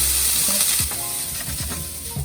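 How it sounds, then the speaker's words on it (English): Soaked pad thai noodles stir-fry in hot canola oil, a close steady sizzle broken by a few quick scraping strokes of the spatula, with no voices. "Okay, we're just gonna give this a little saute."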